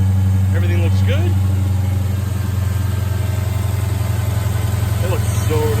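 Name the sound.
Dodge Charger Hellcat engine started and idling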